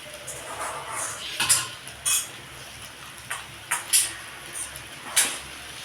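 Spinach rice being mixed in a pan, a series of separate clinks and scrapes of a spoon against metal spaced irregularly over a low background hiss.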